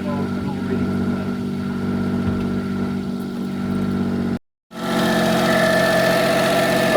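A car engine with an automatic gearbox idles steadily with a low, even hum and vibration, briefly cutting out before continuing at the same level.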